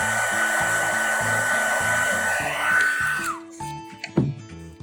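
A hair dryer or heat gun runs loud and steady over wet paint on neon graffiti lettering, then switches off and winds down, leaving quieter clatter and a brief knock.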